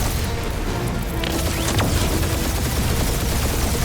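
Heavy gunfire and booms fill the Guardians of the Galaxy video game's combat, a dense, loud, continuous barrage with overlapping blasts and no clear pauses.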